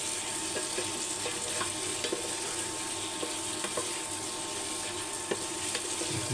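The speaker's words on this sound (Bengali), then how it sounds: "তারপর 1 থেকে 2 মিনিট এটাকে সুন্দরভাবে ভেজে নিতে হবে।" Potatoes and onions fry with spices in a pan, with a steady, close sizzle throughout and occasional light clicks of stirring; no voices.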